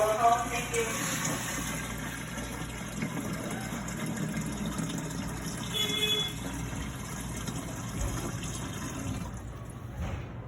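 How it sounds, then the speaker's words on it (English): Clean water runs steadily into a WAXIE DS 20 unit during a valve leak test, a continuous close pouring and filling hiss with a faint low hum underneath. "getting the clean water in here to check the valve to see if it's leaking"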